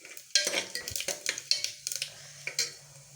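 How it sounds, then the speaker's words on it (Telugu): Mustard seeds, cumin, chana dal and urad dal crackle and pop in hot oil as a tempering, with a quick run of sharp close snaps and some utensil clinks against the pan. "కొంచెం చిట్టపట్ట రావాలి"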